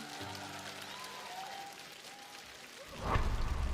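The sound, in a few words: audience applause on a TV singing show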